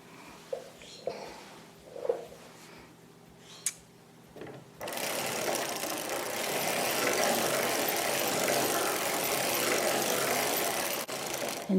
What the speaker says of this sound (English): now we put the buckle up, and we're going to crank 5 rows